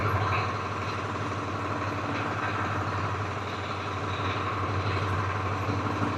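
A Farmtrac 60 Worldmaxx tractor engine running steadily, a continuous low diesel drone with even rumble, close and loud with no talking over it.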